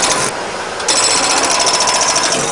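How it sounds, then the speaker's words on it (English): Extreme jackhammer pounding at a driveway, a loud, steady, rapid hammering that runs continuously close by, rising slightly in intensity partway through. "This is called an extreme jackhammer."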